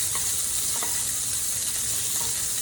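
Sausages sizzle in a frying pan on a stovetop burner, a steady, close hiss of hot fat crackling continuously with no pauses and no voices.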